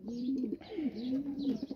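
Breeding pigeons in a loft cooing up close, soft throaty rolling coos repeating in a rising and falling rhythm, with faint rustling behind them and no talking.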